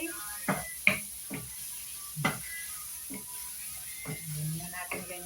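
Dried squid frying in cooking oil in a home kitchen gives scattered sharp crackles and pops over a faint, steady hiss, close by and moderately quiet.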